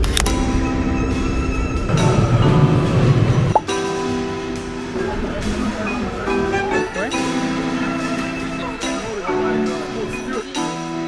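A London Underground train rumbles and screeches along the tracks with metallic squeals and clinks, loud and continuous, with a voice speaking over the noise.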